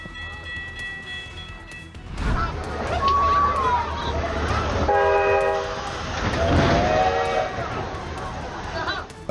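A train rumbles past with a loud horn blast standing out over steady rolling rail noise, close and prominent throughout, with people talking over it.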